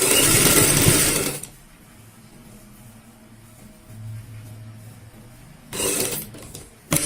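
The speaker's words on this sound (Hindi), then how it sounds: "यहाँ पे आधा इंच का मार्जिन रखते हुए इस तरीके से हम सिलाई लगाएंगे।" A sewing machine stitches halter neck fabric in two loud, rapid mechanical bursts at the start and near the end, separated by a quiet stretch with faint low hum and handling noise.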